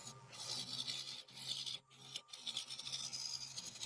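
A wood lathe turning the wooden top of a wig stand round, with a tool rasping and scraping against the spinning wood in a continuous close grinding rush broken by two brief pauses.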